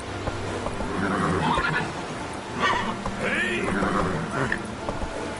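Roach the horse neighs in The Witcher 3, several loud whinnies rising and falling over a few seconds, with faint hoofbeats and game ambience underneath.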